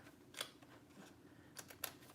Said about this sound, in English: Grab our scissors here.